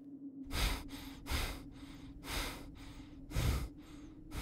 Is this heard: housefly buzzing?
no